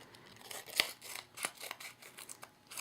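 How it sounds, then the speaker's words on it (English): Small scissors snip paper pop dots at close range in a quiet craft setting, giving a handful of crisp, separate cuts with short pauses between them. "I'm just going to cut my little pop dots here"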